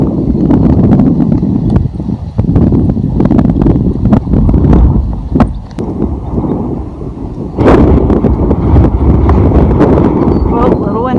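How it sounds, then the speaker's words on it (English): Loud, continuous wind buffeting a microphone on the Te Araroa trail in New Zealand, between Mangaokewa North Road and Ongarue, roaring and gusting throughout with sharp thumps and crackles, and a person speaking briefly under it. "Whoa, a little windy."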